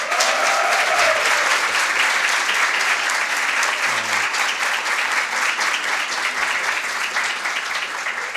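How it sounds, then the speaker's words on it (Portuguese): Sustained applause from an exhibition audience honouring photographer Ari Soares, steady and dense from start to finish at close range with no voices over it. "eu queria uma salva de palmas para ele"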